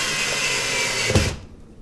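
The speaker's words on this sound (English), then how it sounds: "we are just screwing in these pilot holes to hold all the pages together" A power drill drives screws into pilot holes, its motor whirring loud and steady before stopping abruptly near the end, followed by quiet.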